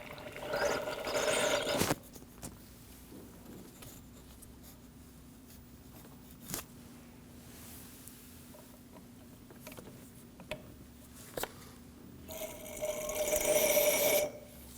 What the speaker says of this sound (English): we'll be using a fluid extractor to pull as much brake fluid out of the reservoir as possible